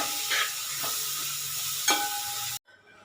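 Two tomatoes fry in chicken curry masala, giving a bright steady hiss with a few stirring knocks, cutting off abruptly into near silence.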